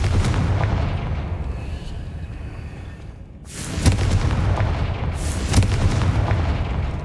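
Fiery Confringo spell blasts in Hogwarts Legacy: a rumbling, noisy barrage with a sharp burst near three seconds, then a louder run of booming impacts with strong hits around four and five and a half seconds, no voices.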